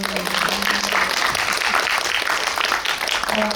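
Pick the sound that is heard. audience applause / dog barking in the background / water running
audience applause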